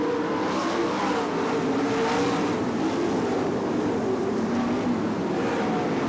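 Lightning sprint race cars come off turn 4 and take the green flag on an oval track, their engines blending into a continuous, moderately loud roar that rises and falls as the pack passes.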